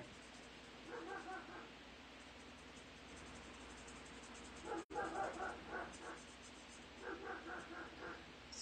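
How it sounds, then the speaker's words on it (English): Neighborhood dogs bark in faint, distant bursts, a few rapid barks at a time, under a soft steady background hiss. "Sorry that you're hearing my neighborhood dogs go crazy"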